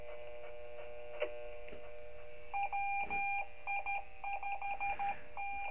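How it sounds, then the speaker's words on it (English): Steady electronic hum with a tone, then a rapid series of short beeps keyed on and off as an automatic Morse code call sign from a GMRS two-way radio repeater. "it's going to play a call sign in Morse code automatically."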